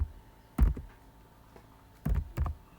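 A few short bursts of keystrokes on a computer keyboard during programming work, soft clicks separated by pauses, near and fairly quiet.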